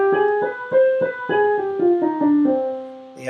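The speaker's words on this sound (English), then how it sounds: "The harmonic sounds like this." A harmonic minor scale played one note at a time, about eight evenly spaced, sustained notes moving stepwise, clear and close with no voices.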